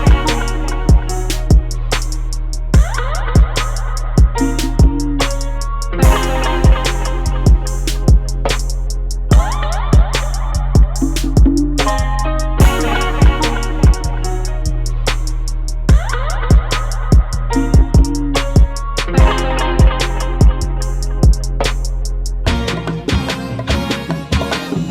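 The verse of a hip-hop style beat built in FL Studio and Maschine Plus, loud and continuous with punchy, regular drum hits under a looping melodic sample, ending in a brief changed section.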